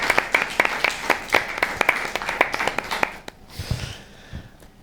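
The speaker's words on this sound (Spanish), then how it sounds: "Un aplauso." A small audience gives a short round of applause: distinct, fairly close hand claps in a quick, uneven patter that stop abruptly about two-thirds of the way through, followed by quiet shuffling.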